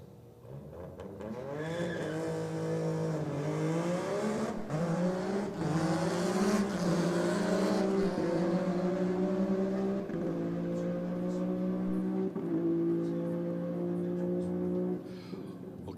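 A land speed car and a BMW launch side by side in a drag race. One loud engine roars for about fifteen seconds, its pitch climbing through each gear change, with no talking.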